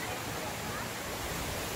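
Steady, broad rushing roar of the waterfall at Cachoeira do Tinguí in Saquarema, constant and fairly close without any break.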